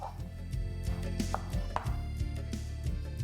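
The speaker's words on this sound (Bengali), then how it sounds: "তারপর এরকম লম্বা লম্বা করে এটাকে কেটে নিন।" A knife slicing peeled pumpkin into long strips on a board for a Bengali pumpkin bhorta, giving repeated soft cutting thuds at a steady pace over a low background hum.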